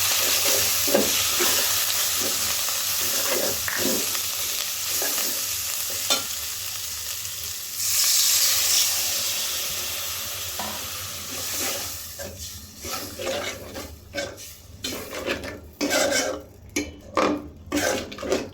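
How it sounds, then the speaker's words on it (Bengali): Spices for a chicken curry frying in oil in a pot, with a steady sizzle and a spoon scraping and stirring, ending in a run of rhythmic clanks against the pot, close and without speech. "এটা সুন্দর করে কষায় নেব যতক্ষণ না ওপরে তেলটা উঠে আসে"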